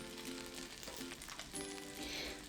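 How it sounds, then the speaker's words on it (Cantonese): Chicken wings fry skin side down in a wok with a little oil, giving a soft, continuous sizzle and crackle at low volume with no talk. "將皮嗰邊呢向鑊底嗰度放落去。 咁我哋就可以將啲皮煎香少少啦"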